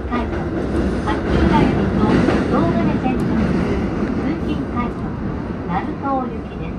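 Steady loud rumble and wheel noise inside a packed Keiyo Line commuter rapid train pulling out of Tokyo Station, with faint clicks and tones over the continuous roar.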